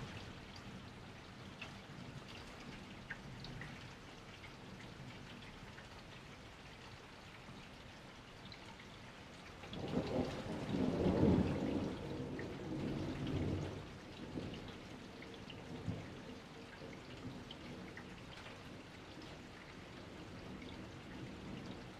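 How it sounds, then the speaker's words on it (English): Steady rain falls throughout a thunderstorm while a deep roll of thunder swells in the middle, rumbling for several seconds before fading back into the constant patter. "The thunder still rolls."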